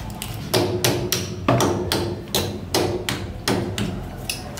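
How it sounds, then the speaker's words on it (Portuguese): A hammer works a nail out of a dog kennel's metal grate, giving about nine sharp, close knocks in an uneven rhythm with short pauses between them. "Arranca com o martelo?"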